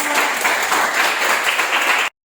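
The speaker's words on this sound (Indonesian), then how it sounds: "Oke, tepuk tangan dulu untuk kelompok." Classroom applause for a student group that has just finished presenting, a steady burst of many hands clapping close by that runs about two seconds and then cuts off abruptly into silence.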